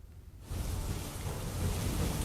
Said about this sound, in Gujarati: વરસાદ વરસતા વાતાવરણમાં ઠંડકનો અહેસાસ લોકોને થઈ રહ્યો છે